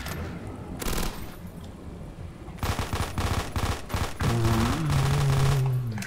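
Thompson submachine gun fire in Call of Duty World at War zombies mode: a short burst, a pause, then a longer sustained string of loud, close automatic shots, with a droning tonal game sound rising beneath the later firing.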